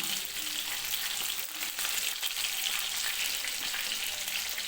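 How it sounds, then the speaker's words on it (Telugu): Fish fillets frying in hot oil in a pan give a steady, dense sizzle that stays loud and close throughout, with no talking. "ఒకవైపు అయితే ఫ్రై అయింది రెండో వైపు కూడా ఇలానే ఫ్రై చేసుకోవాలి"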